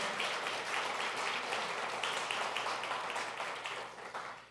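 A church congregation applauds, a dense and steady wash of many hands clapping at a distance, moderately faint, easing off slightly at the end.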